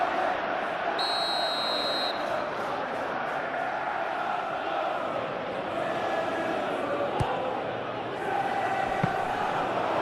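Stadium crowd in the PES 2021 football video game, a continuous broad roar of fans at moderate level carrying underneath, with a brief electronic tone early on and a few sharp knocks later.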